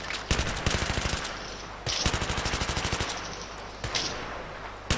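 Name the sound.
rifle gunfire in the video game Battlefield 3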